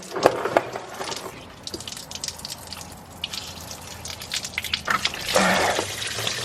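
Water drips and splashes in scattered bursts during an engine teardown on a 6.0 engine, with sharper close plops and a louder splashing rush near the end.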